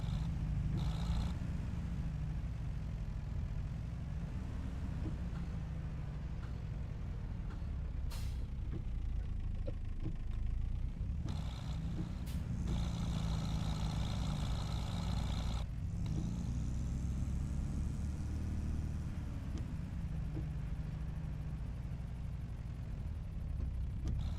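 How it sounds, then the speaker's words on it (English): A small farm tractor runs steadily on hilly farmland during haymaking, its low engine drone continuous and fairly close, with brief higher mechanical whines and hisses breaking in. "runaway tractor"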